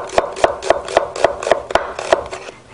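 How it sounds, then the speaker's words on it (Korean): A santoku knife slices an onion into thin strips on a cutting board, about eight crisp, evenly spaced chopping strokes in a steady rhythm, close and clear with no talking. "양파는 산도크를 이용하셔서 우리 채를 썰어주시면 되겠습니다"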